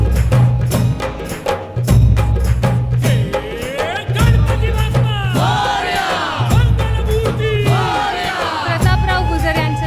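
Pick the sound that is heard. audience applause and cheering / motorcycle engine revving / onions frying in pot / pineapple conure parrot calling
audience applause and cheering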